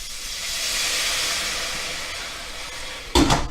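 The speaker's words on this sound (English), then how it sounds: "You'll hear a sizzle going on, and it's going to be steam frying." Bacon and sweet potato steam frying in a pan after a splash of water, a loud steady hiss that slowly fades, ending with a sharp clattering burst.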